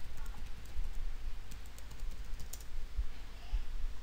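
Keys of a computer keyboard tapped to enter a passphrase into a Google Docs add-on, a quiet run of soft irregular clicks close by with no talking.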